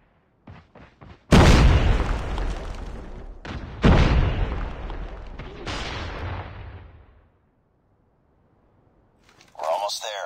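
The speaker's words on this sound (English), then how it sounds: "Grenade out!" Grenade explosions in a Call of Duty match: two loud, close booms, each followed by a long rumbling decay, after a few short gunshots. Then a quiet gap, and voices come in at the end.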